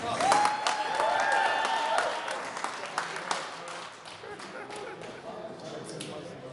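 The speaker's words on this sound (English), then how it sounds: "That means clap, ladies and gentlemen." Audience applause at a fight weigh-in at a Harley-Davidson dealership in Park City, Kansas, a moderate crowd clapping that fades after a couple of seconds while an announcer keeps talking.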